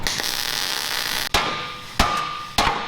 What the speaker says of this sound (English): Why are you hammering that? So there's not a great big gap, so I can get a better weld, flush fit.